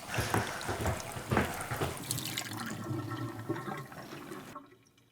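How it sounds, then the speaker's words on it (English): Water gushes and splashes from an opened faucet as household plumbing is drained, loud at first with some clunks, then easing off before cutting out abruptly near the end. "I'm gonna open up a faucet to prevent any airlocks"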